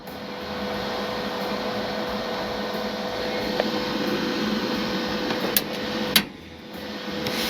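A Blackstone portable air fryer switches on and runs with a steady fan whir and hum, a few faint clicks and taps near the end, a brief dip, then the drone resumes; no talking.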